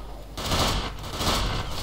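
Bursts of rapid gunfire from the online shooter game Ghost Recon Phantoms, loud and close, with a quieter lead-in before sustained firing and a second swell.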